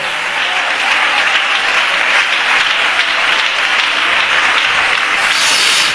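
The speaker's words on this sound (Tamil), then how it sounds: "நல்ல கை தட்டுங்க" A church congregation claps hands steadily and loudly for the whole stretch, a dense continuous wash of clapping with no pause.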